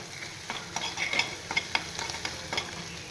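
Ginger and green chili paste sizzles in a pan while a spoon stirs it in quick, uneven scrapes, close and fairly loud, with no voices.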